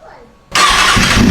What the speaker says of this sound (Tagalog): bubuhayin ko yung motor, meron siyang tunog na kakaiba